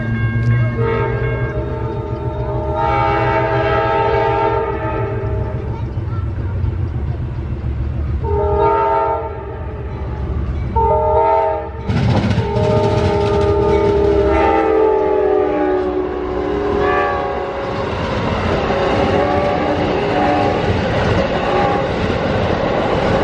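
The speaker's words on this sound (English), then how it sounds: "the engineer wasn't wasting any time getting through the diamond at Plant City" Amtrak 91 passenger train rushes through the diamond crossing at Plant City, Florida, its loud horn sounding in repeated long blasts over rumbling wheels and clattering rail joints nearby.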